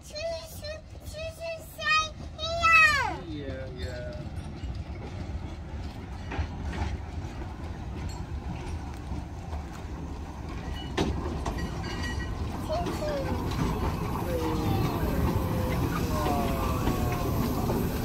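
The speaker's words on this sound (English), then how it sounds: "Wow, Choo train is here." A miniature train pulls into a station at McLeans Island, Christchurch, with a couple of whistle toots, then rattling, clanking wheels and mechanical rumble growing steadily louder, faint voices underneath.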